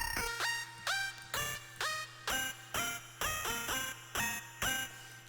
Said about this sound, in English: This one I tried adding the bit crusher, but it didn't sound great.